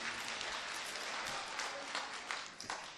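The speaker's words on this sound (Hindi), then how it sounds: "आप जोरदार तालियां बजा दीजिए" Audience at a mushaira poetry gathering in Chandur Bazar, Amravati, applauding loudly, a dense steady wash of clapping that holds for the full three seconds.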